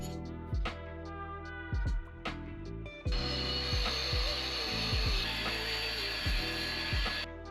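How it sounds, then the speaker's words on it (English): A metal base plate for a Ford Transit swivel seat is worked over with a tool, giving sharp, repeated clanking strikes at irregular intervals, followed by a continuous loud grinding rasp that runs under further knocks. "So we just finished cutting this base plate."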